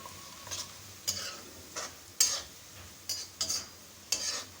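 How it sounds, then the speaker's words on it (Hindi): Cumin seeds dropped into hot oil with golden browning onions crackle and sizzle in bright bursts as a spoon stirs them, about seven separate loud spurts close up with quieter frying between. "हल्की गोल्डन हो गई है और ये मैं ज़ीरा डाल रही हूँ"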